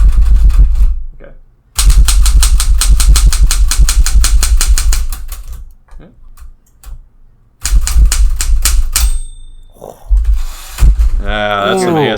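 A mechanical typewriter clatters in fast loud bursts of keystrokes with pauses between, then a brief bright ring like the carriage bell, followed by a voice near the end.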